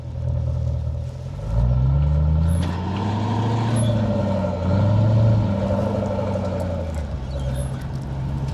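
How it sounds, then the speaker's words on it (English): The supercharged V8 of a Range Rover SVR on the road, a loud steady drone from inside the cabin that rises and falls as the revs swell, with faint high squeaks. "It's pretty loud, not gonna lie. Supercharged V8."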